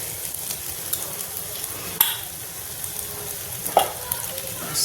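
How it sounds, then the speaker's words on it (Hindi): Parwal fries in ghee with cumin, black pepper and hing, giving a steady sizzle broken by a few sharp scraping knocks of a spoon stirring against the pan. "अब इसको हम भूनेंगे, तनी घी थोड़ा सा और ऐड करते हैं।"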